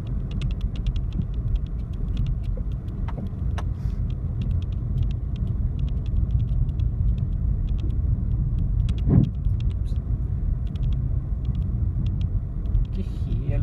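Car driving downhill on a rough mountain road near Nistrovo, Macedonia, a steady low engine and road rumble inside the cabin with scattered rattles and small knocks, while people talk over it.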